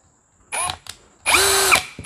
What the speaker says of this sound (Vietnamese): Hình như khoan như thế này thì